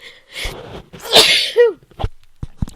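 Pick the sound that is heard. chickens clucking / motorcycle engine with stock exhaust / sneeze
sneeze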